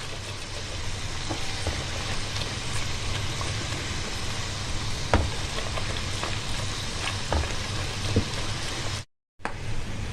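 Butter and flour toasting in a pan for béchamel give a dense, continuous crackling sizzle with faint stirring ticks, steady and close, briefly cutting out near the end.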